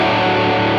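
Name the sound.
electric guitar with distortion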